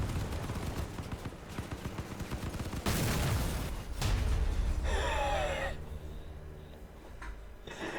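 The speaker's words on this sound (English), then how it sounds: "Those cannon guys really know how to pack a punch." Cannon gunfire in the CrossCraft vehicle combat game, rapid bursts of heavy shots and booming impacts in close succession, loud and chaotic, with scattered metallic hits and debris.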